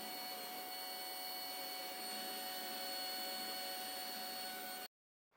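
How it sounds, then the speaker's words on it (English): Steady high-pitched electric whine of a Triumph Bonneville motorcycle fuel pump running, with constant tonal hum and no talking, stopping abruptly at the end. "Pump sounds nice and healthy."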